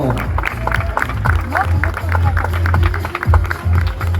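A karaoke crowd in Marseillan applauds a singer leaving the stage, steady dense clapping with cheering and crowd chatter mixed in, fairly loud and close throughout.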